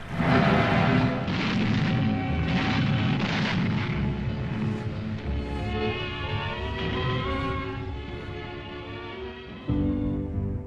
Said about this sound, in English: as the Raja and his Rani arrived by state barge from the palace for the centenary celebration, 101 guns sounded the centenary salute